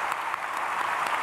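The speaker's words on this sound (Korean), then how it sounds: "박수하겠습니다" Brief burst of congregational applause in a church during Sunday worship, soft and fairly distant, a continuous patter of many hands lasting only a moment.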